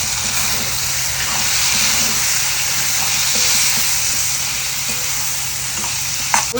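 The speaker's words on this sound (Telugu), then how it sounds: "క్యాప్సికమ్ కట్ చేసుకున్నటువంటి టమాటా పీసెస్ ఇది కూడా కొంచెం సేపు ఫ్రై అవ్వాలి." Capsicum and tomato pieces fry in a pan, giving a steady, close sizzle that holds evenly throughout, with a sharp clink near the end.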